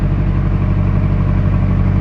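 A narrowboat engine running hard at raised revs while pushing against a fast-flowing flooded river, a steady loud mid-pitched mechanical drone with even throb and no pauses, close by and alone.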